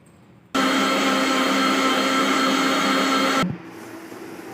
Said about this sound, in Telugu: ఇప్పుడు మిక్సీ పట్టుకుందాం మనం